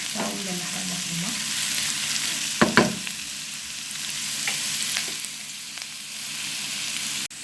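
Onion frying in a pan for a lasagne filling, giving a steady, close sizzle throughout with a couple of sharp clatters from stirring partway through.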